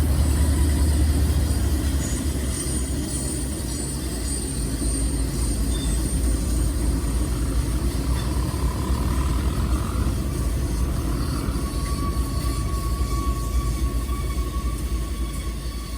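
A model Norfolk Southern freight train with distributed power units rumbles continuously along a layout with tight curves and a steep grade, a loud steady mechanical drone with faint squeals and no talk.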